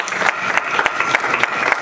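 A church congregation breaks into lively applause, many hands clapping densely and evenly in a steady burst that fills the room, loud and close with no voices rising above it.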